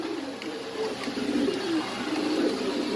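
Pigeons coo steadily at a pigeon market in Mirpur-13, Dhaka, their low throaty calls overlapping continuously at close range with no talk.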